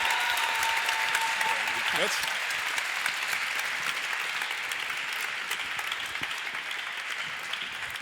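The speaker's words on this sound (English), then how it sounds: "give the warmest round of applause for Adji" Audience applause greets the performer Adji as she comes on stage, a dense, steady wash of clapping from a crowd that carries on throughout and slowly tapers.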